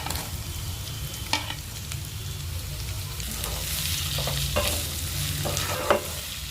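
Chopped onion and sun-dried lentil badi fry in a pan, a steady broadband sizzle with a few sharp scraping stirs of a spatula, close and continuous with no talking.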